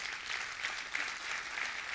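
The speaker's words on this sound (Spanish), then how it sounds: "déle un aplauso a la cruz de Cristo." Steady applause from a church congregation at an evangelical sermon, dense continuous clapping filling the space at moderate distance, holding even throughout without voices.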